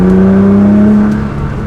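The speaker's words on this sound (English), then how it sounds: "Put it into manual just to do a 3rd gear pull again with that mode." Turbocharged car accelerating hard in a third gear pull in manual mode, a loud close engine drone with a steady rising tone that holds for under two seconds, no voices.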